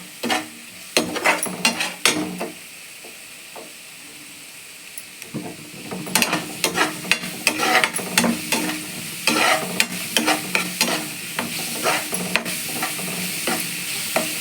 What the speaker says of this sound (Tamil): நல்லா வதங்கட்டும் பச்சை வாசனம் போகிற வரைக்கும் வதக்கலாம்